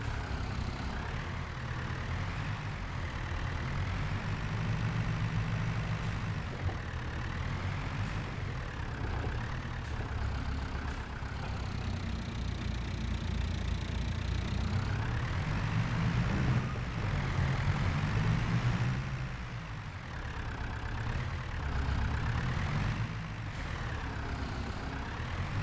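A tractor engine in the Farming Simulator 22 game drones steadily and loudly throughout, with a low rumbling tone whose pitch rises and falls as the throttle changes, and no talk over it.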